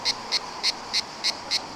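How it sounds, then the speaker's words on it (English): Cicadas in the trees of Split, Croatia, give six evenly spaced bursts of shrill buzzing at a steady rhythm, moderately close, with no other sound. "every tree you walk past just has hundreds of cicadas making the noise that they make"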